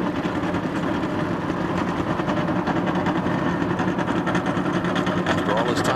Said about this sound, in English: command has been given to start the engines and get this Napa 500 back underway